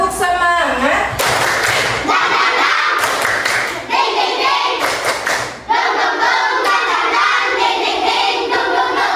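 Schoolchildren in a classroom doing a rhythmic clapping chant, bursts of group clapping alternating with loud chanted voices, close and energetic over several seconds.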